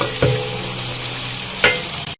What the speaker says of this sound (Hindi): प्याज को हमें यहाँ अच्छी तरह से फ्राई करना है।